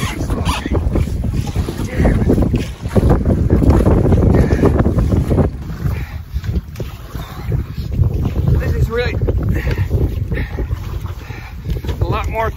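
Strong, steady wind gusts roar across the microphone while a canoe is paddled on open water, with faint water sounds beneath the buffeting.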